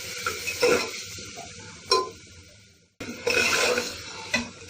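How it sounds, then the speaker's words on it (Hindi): Tomatoes and salt cook in a pressure cooker for instant macaroni and are stirred with scraping strokes over a sizzle, with a brief silent gap midway. "इन सबको अच्छी तरीके से मिक्स करके टमाटर के सॉफ्ट होने तक कुक कर लेना है"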